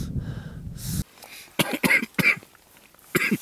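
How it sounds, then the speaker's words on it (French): A person coughs while sitting on an exposed mountain ridge on Dhaulagiri, a few short, harsh bursts close by, separated by quiet pauses, with no talk. "Ah tu tousses ?"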